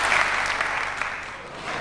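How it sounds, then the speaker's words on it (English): A snooker crowd at the 2004 Masters claps warmly after a fine shot, a steady, dense wash of applause that fills the hall and holds at full strength throughout. "the crowd have certainly appreciated that"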